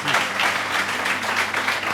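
Audience applause at a live stage show as a volunteer is called up, brisk dense clapping with a lively rhythm, loud and close for the whole moment.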